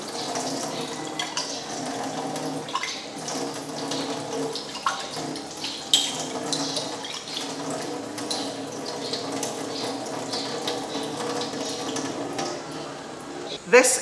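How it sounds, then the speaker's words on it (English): Tap water runs steadily as test tubes are rinsed in a chemistry lab during an aldehyde and ketone test, a continuous close splashing hiss with a few light glassy knocks and a sharper clatter at the end. "And let us rinse these test tubes with water."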